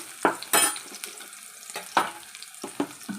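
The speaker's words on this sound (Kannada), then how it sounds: "ಈರುಳ್ಳಿಯನ್ನು ಹಾಕ್ತಾಯಿದ್ದೀನಿ ರೀ ಸ್ವಲ್ಪ ಈರುಳ್ಳಿ ಹಾಕಿ ಬಾಡಿಸ್ಕೊಳ್ಳೋಣ" Onions tossed in with half-fried prawns and sautéed in a pan, giving a few sharp scraping stir strokes over a low, steady sizzle, close up.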